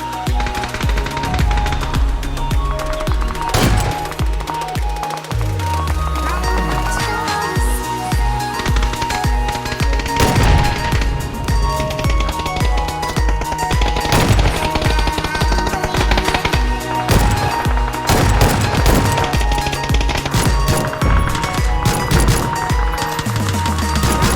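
Gunfire in the battle royale shooter PUBG, played on a budget Ryzen 5 2600 and RX 580 PC, crackles in dense machine-gun bursts and single sharp shots over a steady game soundtrack throughout.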